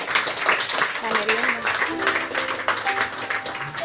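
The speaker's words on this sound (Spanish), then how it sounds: "Dale un aplauso al Eterno" A church congregation breaks into scattered applause, with clapping and cheering voices mixed with talk from the crowd, fairly faint and diffuse.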